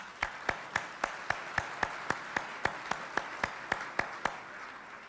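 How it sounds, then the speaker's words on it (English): At a mayor's business celebration luncheon, steady rhythmic clapping rings out, sharp evenly spaced claps repeating about every quarter second at moderate volume, sounding like one or a few people clapping in unison rather than a full crowd. "Let's give a round of applause."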